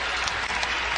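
Arena crowd applauding steadily and loudly at a Pac-12 women's basketball game, Colorado at Stanford, as fans rise in the closing seconds; dense, continuous clapping fills the whole moment.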